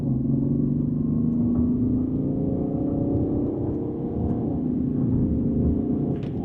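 BMW 730Ld LCI 2014 diesel sedan in sport mode pulls hard from a standstill with wheelspin, its engine note rising steadily as a loud, continuous low drone with harmonics climbing in pitch.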